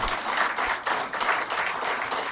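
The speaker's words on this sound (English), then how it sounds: "I want you to give a big round of applause." Audience applause at a talk about a former BCCI chairman, a steady broadband patter of many hands clapping throughout, moderately loud and without a break.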